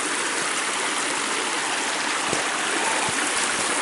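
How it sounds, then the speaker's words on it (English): Steady, broadband rush of creek water flowing beside a hiking trail at Pixley Falls State Park, continuous and fairly close, with a faint occasional splash or knock and no voices. "Gonna have to cross the creek again here."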